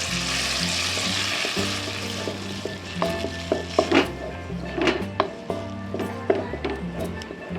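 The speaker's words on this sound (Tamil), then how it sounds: "பலாப்பழம் வேக வச்சதை அரைச்சதை போட்ட இதில் வேக வச்சுக்கலாம் நெய்யில் போட்டு கொஞ்ச நேரம் வேக வச்சுக்கலாம்" Mashed cooked jackfruit for payasam frying in ghee in a pan, a soft steady sizzle with irregular scraping and stirring knocks of a spoon against the pan.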